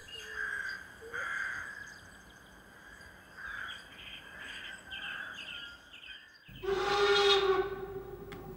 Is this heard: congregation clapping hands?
no